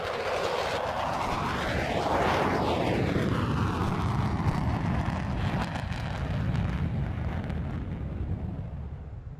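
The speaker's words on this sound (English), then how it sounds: "Coming from your right for the so-called English flyby, sir, ladies and gentlemen, the Couteau Delta." Loud, roaring flyby by French Air Force Mirage 2000D jets of the Couteau Delta display at RIAT 2018, a sweeping Doppler whoosh that peaks overhead and then trails off into a broad, rumbling jet roar.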